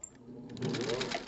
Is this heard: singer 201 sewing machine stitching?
yes